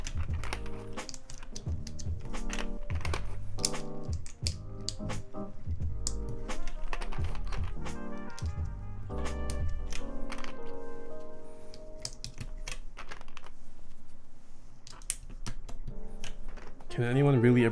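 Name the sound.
keycaps being put onto custom mechanical keyboard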